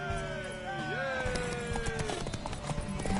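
Horse hooves clip-clop in Witcher 3, a fast run of close hoofbeats mixed with game music and shouting voices.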